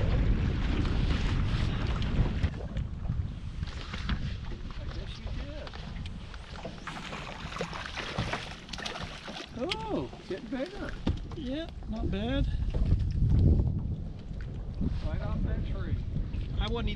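Cold wind gusting across a fishing boat on a lake, a steady rushing buffet against the microphone with small knocks of gear, while people talk over it.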